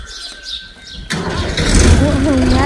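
A tractor engine catches and starts with a sudden loud burst, then settles into a steady running rumble close by.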